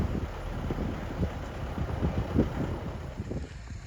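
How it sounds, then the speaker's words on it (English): Strong, cold wind blusters across the microphone outdoors at a snow sculpting championship, making a steady low roaring rumble with gusty surges and no talking. "It's not so much the cold, it's just the wind."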